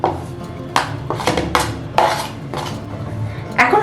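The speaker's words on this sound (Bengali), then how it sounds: "এখন সমস্ত কিছু আবারও একসঙ্গে ভালো করে মিশিয়ে নিতে হবে।" Spoon clinking and scraping against a bowl while spiced fritter batter with garam masala, chilli powder and chopped coriander is mixed, in several distinct strokes close by, with no talking.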